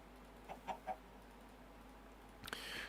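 Chickens in the Minecraft FTB Stoneblock 4 modpack give three short, soft clucks in a quick row. A brighter burst of game noise follows near the end.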